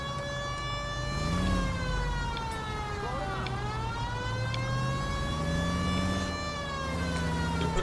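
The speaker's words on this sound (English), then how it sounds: "Put the siren on, we're in a hurry." Police car siren in the video game L.A. Noire, a loud, continuous wailing tone that rises and falls slowly over engine rumble and runs for the whole stretch.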